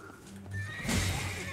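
A horse whinnies in the Elden Ring video game, an enemy's mount giving a short, close, loud neigh that rises and trails off with a faint clip-clop beneath.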